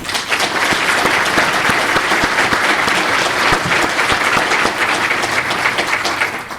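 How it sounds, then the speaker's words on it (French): Loud, sustained audience applause for guest speakers at a public talk on elections and sortition, a dense continuous clatter of many hands with sharp individual claps standing out, no speech. "j'allais vous demander de les applaudir, c'est chose faite"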